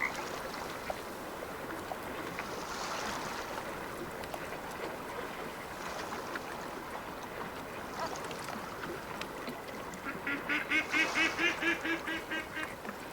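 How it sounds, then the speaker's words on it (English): Wild duck quacking in the hunting game Way of the Hunter, a rhythmic run of loud nasal quacks near the end over a steady outdoor background. "It's so loud, the duck."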